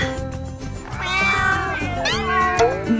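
Several cats meow repeatedly with rising and falling wails, close and fairly loud, over a steady low hum of background noise.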